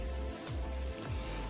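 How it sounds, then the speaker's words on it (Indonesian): Dried salted squid fries in hot oil, giving a steady, close sizzle with no voices over it. "Kemudian goreng dengan minyak panas sebentar saja karena jika digoreng terlalu lama akan menyebabkan cumi menjadi alot."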